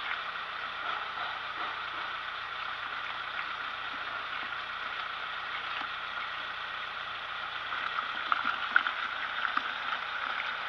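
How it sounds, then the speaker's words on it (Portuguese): Hot coolant water flows steadily through the opened thermostat valve of a 1974 Dodge engine, a continuous hissing, gurgling rush with the engine running underneath, a few small clicks near the end and no talking. "Saindo água quente."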